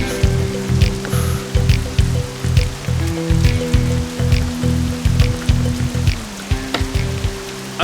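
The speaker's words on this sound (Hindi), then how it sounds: "बारिश होने वाली है।" Steady rain patters outdoors in a continuous, fairly loud wash, with a low droning hum running underneath throughout and no voices heard.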